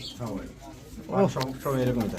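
Silky lakka pigeons give soft, low coos in the background while someone talks over them throughout.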